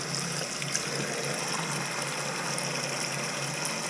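Water runs steadily and evenly from a faucet with a constant hissing rush, close by, with no voices over it.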